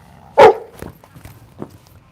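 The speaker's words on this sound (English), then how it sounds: "Now he just wants to play with the other dog." One sharp, loud dog bark rings out nearby at a park, followed by a few faint, soft scuffs and rustles.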